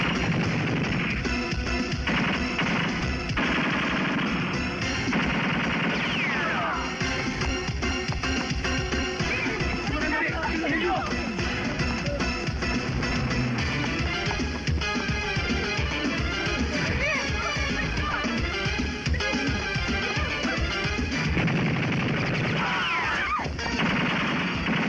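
Gunfire during a shootout in an action film, in dense bursts of shots and crashing impacts that go on almost without pause, loud and cluttered, mixed with music and effects.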